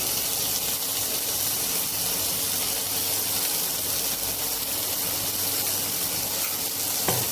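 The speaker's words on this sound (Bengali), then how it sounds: "দিয়ে ভালো করে যতক্ষণ না কাঁচা গন্ধটা যাবে ততক্ষণ ভেজে নেব।" Onion, garlic and ginger paste sizzling steadily in hot oil in a pan, a loud continuous frying hiss with faint stirring scrapes, no voices.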